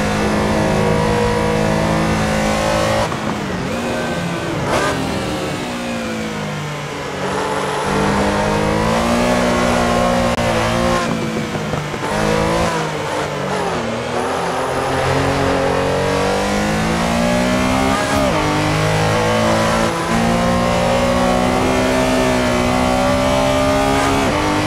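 Porsche 911 Carrera RSR 3.0 racing around Silverstone GP in the Assetto Corsa racing game, its engine loud and continuous, revving up and down through gear changes with no talk over it.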